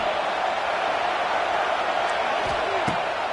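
Stadium crowd in an American football video game cheers behind the defense on a big third down, a constant loud roar filling the scene with a couple of brief thuds near the end.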